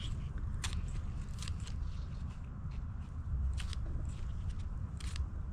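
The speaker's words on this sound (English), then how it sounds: "you can use your kitchen scissors. Look at how easy that goes" Kitchen scissors snip through a soft, overripe banana, giving a series of quiet crunchy cuts spread across several seconds over a steady low background rumble.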